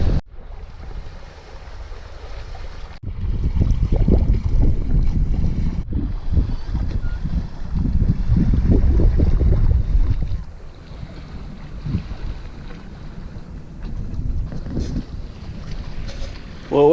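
A sailboat under sail with its motor off moves at about 4 knots in moderate wind near Kodiak, Alaska, with a steady wash of water along the hull and rushing wind buffeting the microphone throughout.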